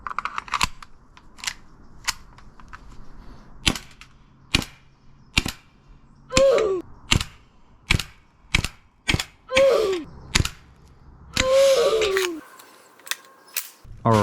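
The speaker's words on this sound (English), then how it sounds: "let's go ahead and see how this guy shoots" An airsoft gas blowback gun firing, a sequence of sharp, loud snapping shots spaced roughly half a second to a second apart, some followed by a brief hiss and metallic ring of the slide cycling, close up with no talk.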